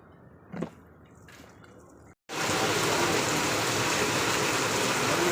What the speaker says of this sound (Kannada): ಮೈಸೂರಲ್ಲಿ ಮಳೆ ಯಾವ ಥರ ಬರ್ತಾ ಇದೆ ಅಂದರೆ ಅರ್ಧ ಗಂಟೆ ಆಯಿತು